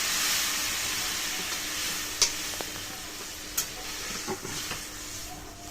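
Vegetables are stirred in a pan after water is added, giving a soft continuous sizzle and hiss with a few sharp scrapes and clinks of the spoon, fairly quiet and without talk.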